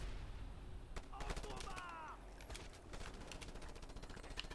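Machine gun fire in a video game, sharp rapid gunshots cracking over a steady rumbling background, fairly faint and distant in the mix, with a short sweeping tone in the middle.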